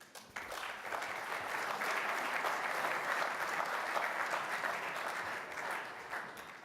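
Audience applause at a G20 investment summit on German business and the Compact with Africa, following a speech: a steady, dense clapping that starts abruptly and holds evenly for several seconds before tapering slightly.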